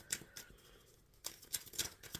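Tarot cards being shuffled, a few crisp riffling bursts and soft slaps close by, separated by a short quiet gap, with no voice over them.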